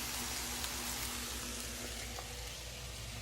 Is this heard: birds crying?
no